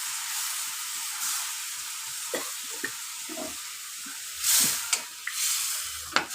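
Jackfruit seed curry with mustard and green chilli simmers in a pan right after water goes in, giving a steady soft sizzling hiss with a few faint stirring clinks and bubbling pops, close and fairly quiet.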